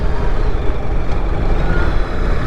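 A BMW R 1300 GS motorcycle being ridden around the block, a steady loud engine drone with wind rush, continuous and even with no voices.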